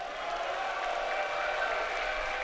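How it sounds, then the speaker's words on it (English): A live crowd at the MLG Dallas 2010 StarCraft final between TTOne and LiquidJinro cheers and applauds for LiquidJinro, a dense, sustained wash of clapping and shouting filling the whole stretch. "If you would like LiquidJinro to close it out in this final game, give a cheer for LiquidJinro."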